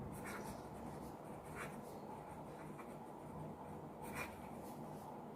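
Pen scratching on paper while a maths solution is written out, faint soft strokes and rubs with a few sharper scratches over a quiet background.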